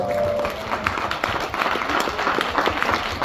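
Applause from diners at a restaurant concert, a dense patter of claps mixed with crowd noise and some voices, fairly loud and steady throughout.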